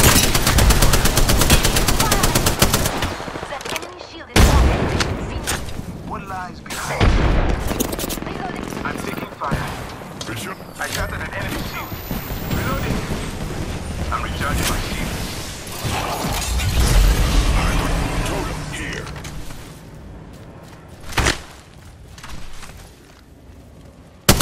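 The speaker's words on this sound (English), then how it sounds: "They're firing on me." Gunfire in the video game Apex Legends: sustained volleys of rapid automatic shots and single cracks fill the scene, loud and dense, with brief gaps and bursts continuing throughout, with voices talking in the background.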